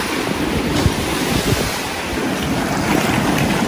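Ocean surf washes onto secluded, deserted Geger Beach in Bali, a steady broad roar of breaking waves mixed with wind buffeting the microphone, loud and continuous without talk.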